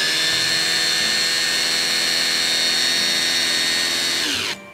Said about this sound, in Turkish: Bisküvileri rondoya alıyoruz.